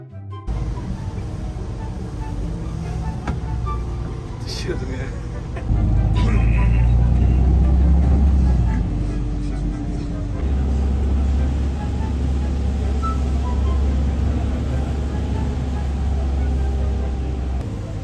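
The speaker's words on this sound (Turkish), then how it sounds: "Şu anda otobüsteyiz." Inside a moving city bus headed for Kadıköy, a loud continuous engine rumble and road roar, deepening into a heavier drone partway through, with people talking faintly over it.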